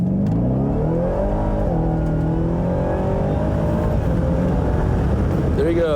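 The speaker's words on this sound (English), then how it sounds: "We're stopping here, and we're going to do a wide open throttle." Ford Raptor R pickup truck accelerates at wide open throttle, a loud continuous engine roar climbing in pitch through the gears, heard from inside the cab.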